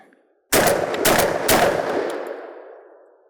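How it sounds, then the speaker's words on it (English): A Military Armament Corp 1014 semi-automatic shotgun fires 2 3/4 inch target loads in a quick string of about three or four loud, close blasts, each ringing out into a long fading echo. "Wow, very manageable recoil with the 2 3/4 inch target loads."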